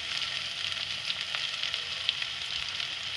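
Summer squash (chappan kaddu) sabzi with spices frying steadily in oil, a close, continuous sizzle with faint crackles and no voices.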